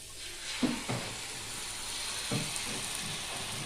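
Beaten egg poured into a hot pan for egg bhurji, a steady close sizzle with a few soft stirring knocks near the start and middle.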